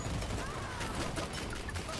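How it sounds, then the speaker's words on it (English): Rapid gunfire from the first-person shooter game Dirty Bomb, a dense crackling burst of shots in quick irregular succession, continuous and fairly loud throughout. "the gunshot sounds whenever you shoot someone"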